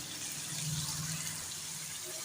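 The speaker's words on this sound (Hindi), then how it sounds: "हल्का सा मैं पानी का छींटा लगा दूंगी ताकि जो हमारे स्पाइसेस है वो जले ना।" Water splashes and sizzles as it hits spices frying in a hot karahi while chicken karahi is cooked, a steady loud hiss with a brief bubbling swell.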